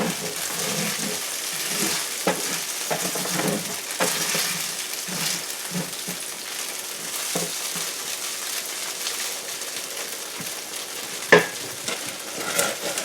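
Sticky tofu frying and being stirred in a pan, a continuous soft sizzle broken by repeated scraping stirs and one sharper clack near the end, close and fairly quiet.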